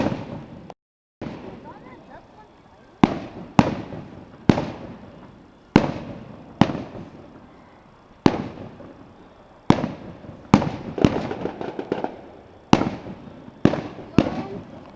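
Loud fireworks at a Dallas fireworks show burst one after another at irregular intervals, sharp booms with crackling tails echoing outdoors, some explosions clustered close together.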